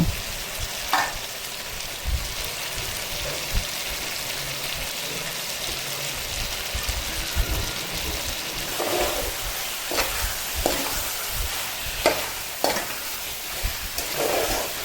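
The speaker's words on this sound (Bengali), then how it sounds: "এই পেস্টটা দিয়ে আরো বেশ খানিকক্ষণ কষিয়ে নেব।" Chicken pieces are sautéed and stirred with a ginger, garlic and chilli paste for Bengali chicken kosha, giving a steady close sizzle and frying hiss with occasional scraping stirs, and no talk.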